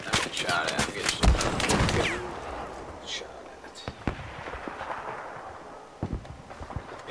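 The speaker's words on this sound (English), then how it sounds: "I'm getting shot at." Gunfire crackles through a Battlefield 4 multiplayer round, sharp shots and bursts clustered over the first couple of seconds, then scattered single reports against a dull battlefield rumble.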